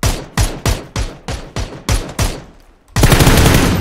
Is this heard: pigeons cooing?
no